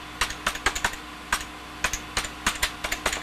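Keys clatter on an HP Vectra VL400 computer keyboard as a password is typed, about twenty close, crisp keystrokes in quick uneven bursts with brief pauses, no voices.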